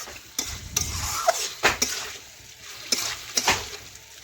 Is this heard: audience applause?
no